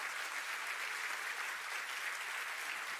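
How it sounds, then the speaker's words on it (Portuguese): A church congregation claps together in a steady, dense round of applause, even and continuous throughout, heard at moderate distance with no voices over it. "pode aplaudir ao Senhor"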